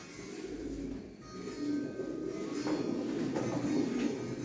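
Pigeons coo softly and repeatedly, with a low murmuring warble over steady background noise, among a flock of distance-flying breeding pigeons.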